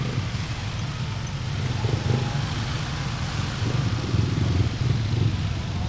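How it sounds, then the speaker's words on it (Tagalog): Heavy road traffic of motorcycles and cars on a congested road between Kawit, Bacao and General Trias, heard as a steady low engine rumble that swells slightly in places, with no voices. "punong-puno ng kalsada ng motor sasakyan."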